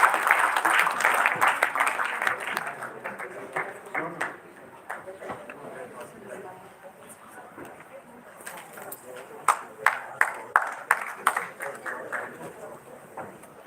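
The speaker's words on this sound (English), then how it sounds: "A huge round of applause, everyone." An audience at a dental event applauds a keynote speaker: moderately distant crowd clapping that thins to scattered individual claps, with a few sharp louder claps near the end and voices mixed in.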